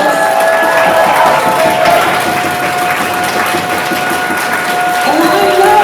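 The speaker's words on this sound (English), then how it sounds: "give yourselves a round of applause for that success" An audience at a Stop Sprawl rally in Hamilton breaks into applause, a broad, continuous patter of clapping mixed with some cheering that holds at steady strength throughout.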